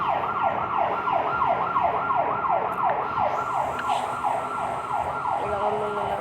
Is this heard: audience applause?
no